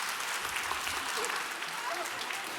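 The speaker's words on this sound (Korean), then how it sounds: "큰 박수를 한번 더 격려하겠습니다." Congregation at a Sunday church service applauding a child, steady dense clapping throughout at moderate distance with no breaks.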